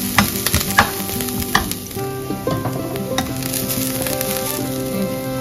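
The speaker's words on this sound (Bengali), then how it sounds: "আর একটু পেঁয়াজটা ভাজলেই হয়ে যাবে।" Onions fry in a pan with a bright, continuous sizzle, close by, broken by sharp clicks and bursts of stirring and utensil contact.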